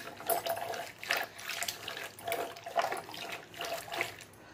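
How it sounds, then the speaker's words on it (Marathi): Warm water splashes into lentil dal as it is whisked, giving soft, quiet sloshing bursts that repeat in an even rhythm. "मग आपल्याला याच्यामध्ये कोमट पाणी टाकून घ्यायचंय"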